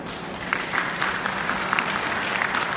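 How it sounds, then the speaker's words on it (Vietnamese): A crowd at the Hai Ba Trung memorial ceremony in Sydney, NSW, 2018 gives sustained applause. It is a continuous wash of many clapping hands at moderate distance, with sharper individual claps popping out. "chúng ta xin một tràng pháo tay nữa để cảm ơn sự hiện diện của mỗi chúng ta"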